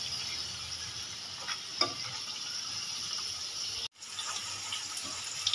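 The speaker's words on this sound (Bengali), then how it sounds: "সব মোমোগুলো উল্টে পাল্টে আমি লালচে করে ভেজে নিয়েছি, সুন্দরভাবে ভাজা হয়ে গেছে" Momos fry in a pan with a soft, continuous sizzle, broken by a few light taps and scrapes from a fork turning them and one brief cut in the sound; no one speaks.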